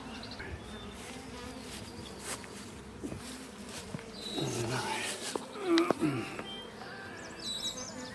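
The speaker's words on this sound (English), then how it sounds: "there's bees in a lot of these other boxes" Honey bees buzzing around hive boxes and nucs in a bee yard: a steady, moderately faint drone, with individual bees passing close by now and then, growing louder near the end.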